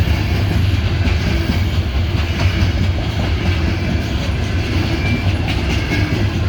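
A freshly rebuilt CSX SD70 locomotive leads a massive coal train past at close range, a loud, steady rumble of wheels and rail cars rolling by without pause.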